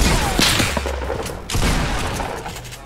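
Sniper gunfire in the Fortnite video game, heavy booming shots and dense battle noise filling a short, loud stretch with no clear talk over it.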